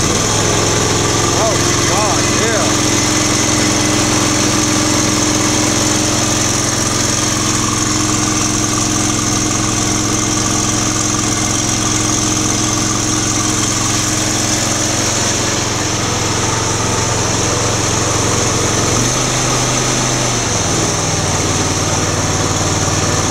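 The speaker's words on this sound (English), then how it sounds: "It's an ExMark Laser Z, the X series." An Exmark Laser Z X-series zero-turn mower engine runs loud and close inside a garage, holding a steady droning idle with a small shift in pitch near the end, with some speech over it.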